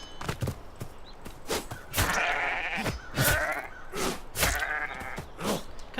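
Several sheep bleat nearby in repeated wavering calls, some overlapping, with short pauses and soft thuds between them.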